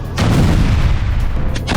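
Explosions blasting tunnels in Gaza, set off by Israeli troops: a loud, sustained rumbling blast roar that swells and holds across the moment, with a second surge of debris noise near the end.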